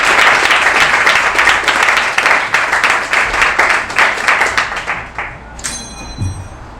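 Audience at a tech conference clapping to welcome a speaker on stage: loud, dense applause with distinct individual claps, tapering off over several seconds before a voice begins speaking.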